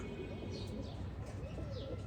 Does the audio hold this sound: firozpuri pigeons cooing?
yes